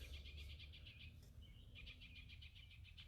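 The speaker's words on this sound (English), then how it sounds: "just heard a flicker" A northern flicker calls during an early morning walk at Landis Arboretum, a faint run of rapid repeated high notes in two bursts over soft outdoor ambience.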